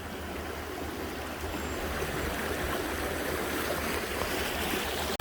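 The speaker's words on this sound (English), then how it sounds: "the river, it's going to remain at this volume throughout the summer" The Yakima River flows steadily in summer, a dense, constant rush of water close by with no breaks and no voices.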